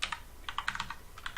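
Quick, irregular clacking of keys on a computer keyboard, close and fairly soft, with rapid keystrokes in short bursts and no voices.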